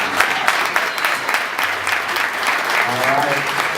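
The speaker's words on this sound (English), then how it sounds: "One big round of applause for Mike Kelly, ladies and gentlemen." A crowd applauds steadily with dense, sustained clapping, and a few voices and cheers rise faintly beneath it.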